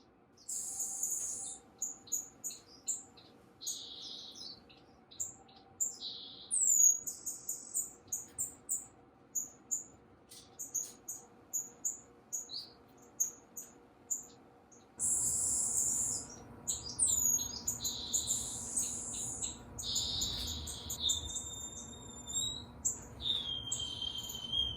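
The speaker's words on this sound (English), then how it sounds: "just finches doing what finches do with very little commentary" Finches, including greenback twin spots, chirp and tweet in an aviary, with many quick high calls and short trills overlapping continuously at moderate distance over a faint background hum.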